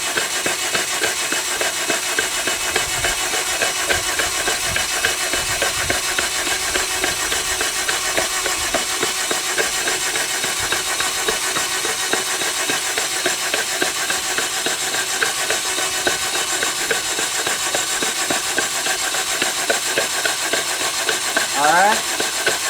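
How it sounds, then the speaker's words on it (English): A 2009 Toyota Corolla engine with four low-compression cylinders cranks on its starter motor, a loud, steady, rhythmic churning with hiss that runs unbroken for over twenty seconds. "give the starter motor a rest"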